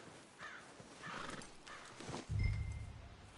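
Horse in the video game Red Dead Redemption 2, with hoof clip-clops and a whinny followed by a loud low snort or blow, close and alone over a quiet outdoor backdrop.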